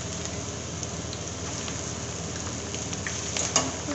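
Chow mein noodles tossed with vegetables and soy sauce in a hot pan, a continuous close sizzle with soft scraping and stirring clicks, no one speaking.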